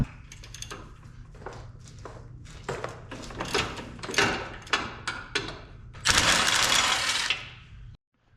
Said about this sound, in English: I'm just going to take these 3 bolts out, and then this whole bar will come off as one piece.